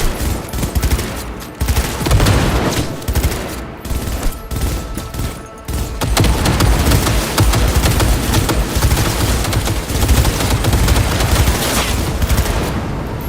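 Sustained video game gunfire from Cyberpunk 2077 fills the scene, with dense automatic bursts and booming shots loud and close, briefly dipping before another long barrage.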